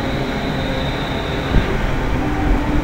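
A British Rail Class 350 electric unit, 350-242, passing at Nuneaton: a loud, steady rumble and rushing roar with a brief thump partway through, close by and without talk.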